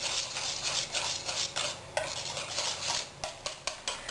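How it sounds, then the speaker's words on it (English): A small whisk stirs orange zest and juice into beet cake batter in a bowl, making rhythmic scraping and tapping strokes against the bowl, close and fairly soft, with no talking. "we're just going to mix that all in together so it's nicely combined"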